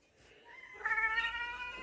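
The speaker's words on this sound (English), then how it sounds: "Oh, and those are the little kitties." Small kittens meow close by, one drawn-out, rising high-pitched cry that swells and holds, clear and fairly loud over a quiet room.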